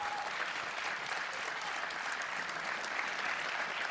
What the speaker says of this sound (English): Immediately, an applause for you guys